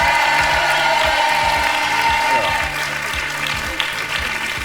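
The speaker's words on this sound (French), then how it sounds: "Je vous propose, puisque vous êtes si sympa, d'applaudir nos deux candidats" A television studio audience applauds two game-show contestants, steady dense clapping that tapers slightly toward the end, with talk over it.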